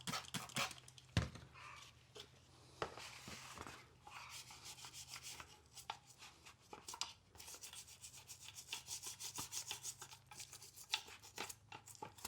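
A toothbrush scrubs grease off the gas cylinder of a lawnmower in close, steady back-and-forth strokes, a soft, dry rubbing that repeats irregularly with occasional sharper scuffs and knocks, fairly quiet with no talking.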